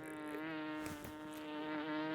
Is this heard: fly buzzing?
yes